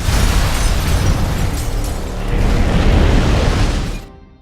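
A loud explosion tears through an abandoned building in an action film: a dense, sustained blast roar with rumbling debris that holds for about four seconds, then cuts off abruptly to near silence.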